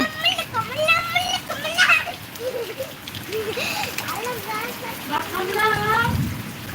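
Rain falls steadily while children play and shout nearby, their excited voices rising and falling over the continuous hiss of the downpour, with adults talking in between.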